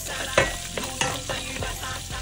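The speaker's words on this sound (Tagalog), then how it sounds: "Gigisa na tayo ng bawang." Minced garlic sizzles hard in hot oil in a pan, stirred with a few scraping strokes, close and steady with no voices, the first step of a pork pochero.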